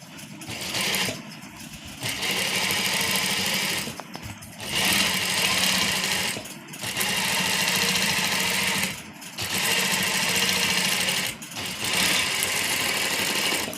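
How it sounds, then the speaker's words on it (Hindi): A sewing machine stitches fabric for a baby girl's frock in about five buzzing runs of a couple of seconds each, separated by short pauses, close and steady with no talking. "स्टिचिंग कर देंगे।"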